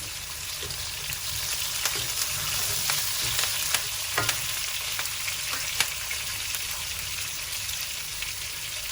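Curry leaves fry in oil over a medium-low flame, making a steady close sizzle scattered with sharp pops and crackles throughout, with no voices.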